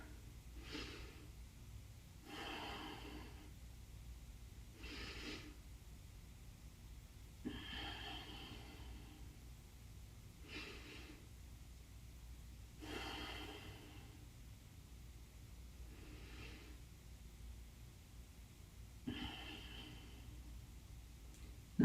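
Slow, steady breathing during a yoga stretch in a beginner morning class, with about eight soft, evenly spaced breaths at close range and no talking.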